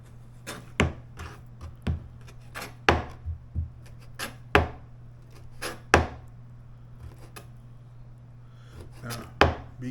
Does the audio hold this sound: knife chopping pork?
yes